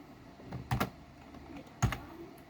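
Code being typed on a computer keyboard in short clusters of soft key clicks, a few taps, a pause, then more, quiet and close with no voices.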